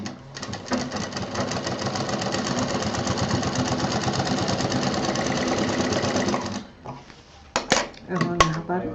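A sewing machine stitches piping onto a handbag in a fast, steady mechanical chatter for several seconds, then stops, followed by a few sharp clicks and knocks.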